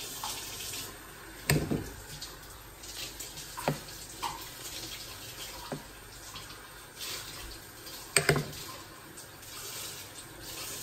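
Water runs from a tap into a basin, a soft continuous rush broken by a few clunks and knocks.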